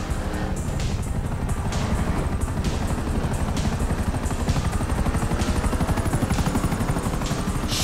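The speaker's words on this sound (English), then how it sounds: "Another chopper!" A helicopter in Grand Theft Auto 5, its rotor beating in a fast, loud, steady chop that sounds close and continues throughout with no one speaking.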